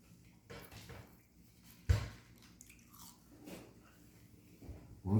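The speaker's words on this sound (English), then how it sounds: "But these Layne's fries are crispy." Crispy Layne's fries being bitten and chewed close to the mic, a sharp crunch followed by irregular soft crunchy chews and squishes, with no speech.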